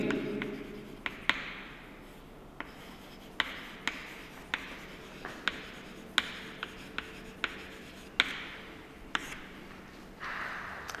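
Writing on a board during a chemistry lesson on osmotic pressure: scratchy strokes punctuated by sharp, regular taps about once a second, fairly close and clear, with no voices.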